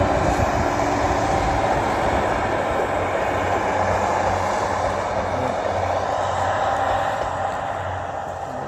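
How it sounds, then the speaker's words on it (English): A train rolling past a railway platform, a steady broad rumble and rattle of wagons that holds evenly and fades slightly toward the end, heard fairly close with no talking. "Yeah, I've missed the train"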